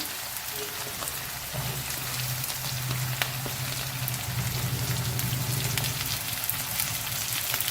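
Onions, green chili, ginger and curry leaves sauté in hot oil with mustard seeds and lentils, a dense, steady close sizzle with faint crackles and occasional stirring, and no voice over it.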